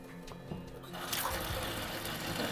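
A house faucet is opened and water runs steadily, with a rushing, broadband hiss that swells louder after a second and carries some gurgling from air trapped in the line.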